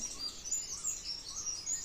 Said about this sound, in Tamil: பறவைங்கள்லாம் இற தேடிட்டு கிச்சு கிச்சு கிச்சின்னு கத்திகிட்டு இருக்குது